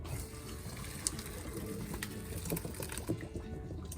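Boiled rice water for vegetable biryani is poured off through a strainer, a steady close rush of draining water with a few small clanks, lasting the whole short stretch.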